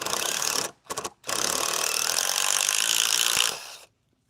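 Impact drill driving screws into a wooden board for a garden raised bed, heard as loud sustained bursts: a short run, two quick stuttering pulses, then a longer drive of about two seconds, close by with no talking.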